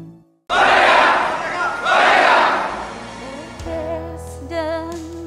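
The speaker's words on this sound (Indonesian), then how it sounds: "Berikan tepuk tangan yang meriah." A church congregation at a Sunday service bursts into loud cheering and applause, two big swells of crowd noise that fade into sustained music tones and voices.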